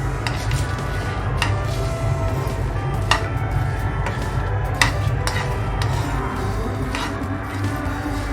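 Whole biryani masala spices dry roasting and being stirred in a pan, giving a steady soft rustle and faint sizzle with light scraping and occasional sharp clinks of a utensil against the pan, close and continuous with no talking.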